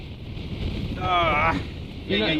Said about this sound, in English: Little bit of gust there.